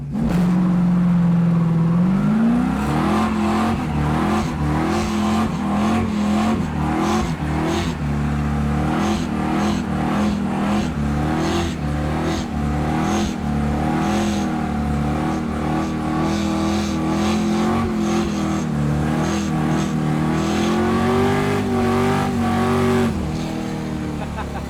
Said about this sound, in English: as long as I'm about to do this burnout in front of this Yahoo's house